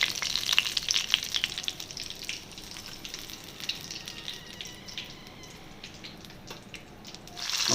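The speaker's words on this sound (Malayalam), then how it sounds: "നമ്മൾ കൂന്തൽ നിറച്ചത് വറുത്തെടുത്തുകൊണ്ടിരിക്കുകയാണ്." Stuffed squid frying in hot oil in a pan, Malabar style, a steady close sizzle and crackle with scattered pops and spatters throughout, no talk.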